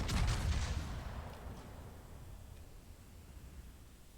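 A heavy main-battery salvo from the battleship Siegfried firing 380 mm shells in World of Warships, one loud booming blast at the start that rolls off into a long fading rumble.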